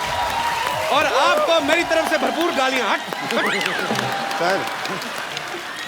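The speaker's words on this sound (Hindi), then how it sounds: "अनिल सर के लिए जोरदार तालियां" Studio audience applause on a television comedy show rolls underneath lively talking, a broad wash of clapping kept beneath the voices in the foreground.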